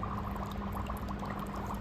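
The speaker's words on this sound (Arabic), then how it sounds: "نسمع صوت الغليان" Dry ice bubbling vigorously in water, a steady dense fizzing and gurgling boil, close and continuous with no voices.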